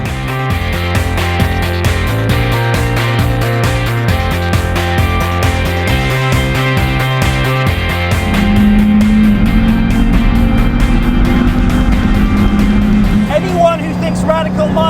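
Radical sports car engine at high revs in a steady droning run, briefly dropping pitch as it flat shifts before climbing again, loud and close with a voice talking over it.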